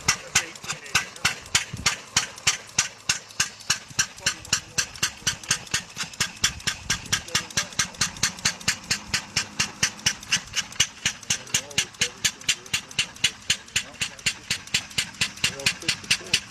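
An 1886 Benz motor car, the first Mercedes, runs with a steady fast chugging single-cylinder beat, loud and close throughout, with voices talking nearby.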